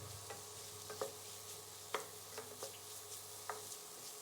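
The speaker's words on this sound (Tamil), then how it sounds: "ஒரு 2 நிமிஷம் இதை வதக்கிடுவோம்" Potato masala with half a teaspoon of turmeric sautés in a pan for a Mysore masala dosa filling: a faint, even sizzle with a few distinct spatula taps and scrapes spaced about a second apart.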